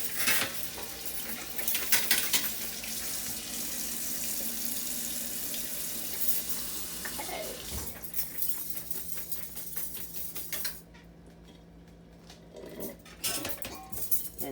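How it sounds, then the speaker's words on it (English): Running kitchen tap water splashing over produce in a sink for canning, a steady close gush with clinks of a dish, briefly cut off near the end before flowing again. "Do another quick rinse."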